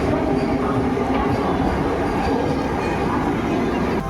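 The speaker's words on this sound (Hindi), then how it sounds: "जैसे ट्रेन का अराइवल हो उसके 2 मिनट बाद वंदे भारत का भी अराइवल हो चुका है" A Vande Bharat Express on the Lucknow–Dehradun route pulls into Moradabad Junction, a loud, dense rumble of wheels and carriages rolling close by at a steady level.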